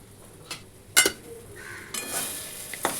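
Green pea kachori filling, seasoned with salt and a little sugar, is stirred in a kadai: a few sharp scrapes and knocks of the spoon against the pan, followed by a soft frying hiss.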